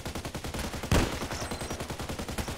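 A single loud, sharp report from an unsilenced sniper rifle in a shooter video game cuts through a steady, rhythmic background of game noise and other gunfire.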